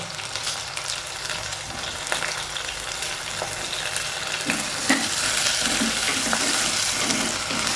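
Onions and green chillies sauté in a pan, sizzling steadily and close, with occasional stirring scrapes as the frying grows a little louder toward the end.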